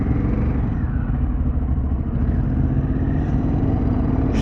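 A Harley-Davidson Pan America adventure motorcycle riding along, its engine a steady, loud low rumble with wind noise, constant throughout.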